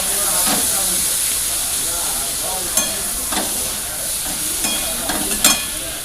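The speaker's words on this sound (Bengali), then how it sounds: "সিদ্ধ করা কলা আর আলু ওই তেলেতে একটু ভেজে নেব।" Boiled plantain and potato frying in hot oil in a Bengali home kitchen, giving a continuous loud sizzle and hiss with occasional stirring scrapes.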